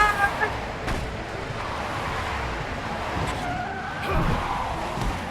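A car skids in The Wolf Among Us video game, broadband tire and road noise with sharp bursts and a swelling surge near the end, loud and close with voices mixed in.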